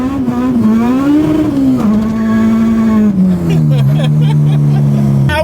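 Supercharged K20A-powered Honda Civic EG hatchback accelerating hard, its engine note climbing and holding steady before dropping at a shift and rising again, loud and close throughout.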